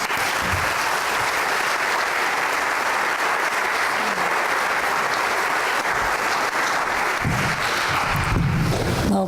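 Sustained applause from a bookstore audience greets two authors at a reading, a dense, even clatter of clapping that fades near the end as a voice begins.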